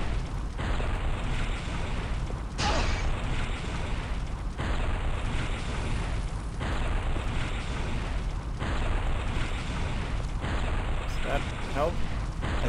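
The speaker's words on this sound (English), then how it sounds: "I think the explosion damage still hits me" Explosions in the Wheel of Time video game go off as a series of loud, rumbling blasts about every two seconds against constant background game noise.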